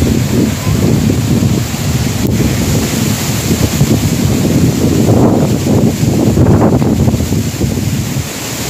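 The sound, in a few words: strong wind of a storm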